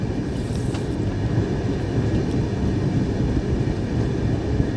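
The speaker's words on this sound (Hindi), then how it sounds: "और हमारी ट्रेन एकदम धीरे धीरे एकदम क्रॉस करते हुए यहाँ से आगे निकल रही है।" An Indian Railways superfast express train pulls slowly out of a station, heard from inside a 3AC coach as a steady low rumble and rolling drone throughout, with no voices.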